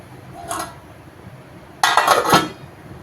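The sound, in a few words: plate placed over cooking pot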